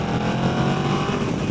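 A 2015 Yamaha VMax motorcycle's engine revs hard toward 5,000 RPM, a dense, loud, raspy roar heard up close while riding, steady throughout with no talking.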